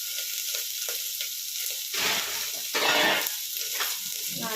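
Ingredients sizzle and fry steadily in a pan, salted for a green gram and greens rice dish, with bursts of louder crackling and stirring partway through.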